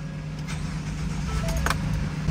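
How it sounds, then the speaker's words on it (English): Ford F-150 with an intermittent PCM fault, turned on in a test start: a steady engine hum with a brief click and jangle partway through, moderately loud and close, no talking. "just as I suspected, the vehicle started right up"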